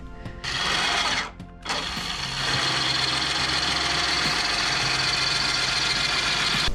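A small gearbox motor drives a DIY automatic e-bike lift, a steady mechanical whirring hum after a brief bump and pause near the start, running continuously and fairly close.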